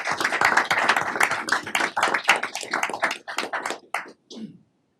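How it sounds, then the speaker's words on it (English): Audience at a school board of education meeting applauds the district maintenance crew: dense, steady hand clapping for about four seconds, thinning to a few scattered claps before stopping. "Let's give them a big round of applause"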